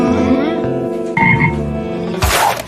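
A frog croaks loudly and close up in a string of rough, buzzy calls that shift pitch, ending in a harsh burst of noise.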